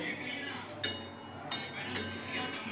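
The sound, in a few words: cooking pot being covered with a lid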